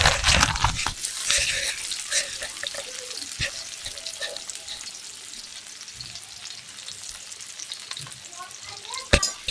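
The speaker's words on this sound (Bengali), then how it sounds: "পেঁয়াজ ও কাঁচা লঙ্কা খুব ভালো করে ভেজে নেব।" Chopped onion and green chillies fry loudly in hot oil for a fish curry, with a dense, close sizzle and crackle that starts strong and settles to a steady hiss, broken by sharp scrapes and knocks from stirring.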